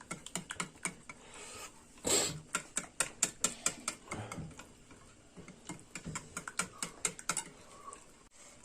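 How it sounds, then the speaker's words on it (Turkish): A knife chops purslane on a board in quick, evenly spaced taps, close and crisp, with short pauses between runs of strokes. No one speaks. "Sebze otumuzu doğruyoruz"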